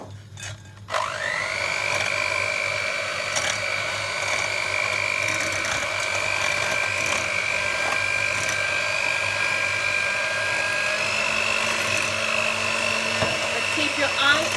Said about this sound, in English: I'm going to beat the 4 eggs with the sugar